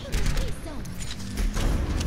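Gunfire in a competitive video game arrives as a quick burst of rapid shots and thuds that are mixed with game mechanism noises, with a player's voice talking over them.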